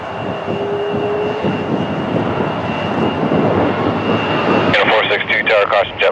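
Airliner engines roaring during a takeoff roll on runway 6 left at an airport, a loud sustained rumble with a bright whine. Radio chatter and talk run over it, and the engine sound grows choppier near the end.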